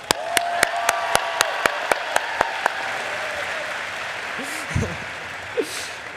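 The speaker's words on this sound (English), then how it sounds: "Y'all deserve a giant round of applause." At a Belton High School graduation ceremony in May 2025, sharp isolated claps ring out at a steady rhythm over a background of crowd applause, then fade into murmuring and brief voices.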